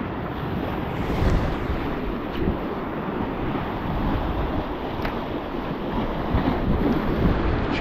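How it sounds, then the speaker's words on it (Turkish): Wind blows hard along the Black Sea shore at Sinop during a bluefish fishing trip, a steady loud roar blended with washing surf that swells and eases throughout, with no talking. "Rüzgar iyice yüzümüze vurmaya başladı."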